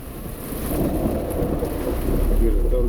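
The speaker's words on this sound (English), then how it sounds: "Hear the thunder." Thunder rumbles through steady heavy rain while driving in a rainstorm with lightning, the low roll building and staying loud for about three seconds over the constant hiss of rain on the car.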